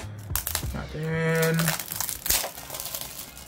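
Plastic wrapping on a PS4 game case crinkles and crackles as it is pulled open, with a voice speaking through and around the rustling.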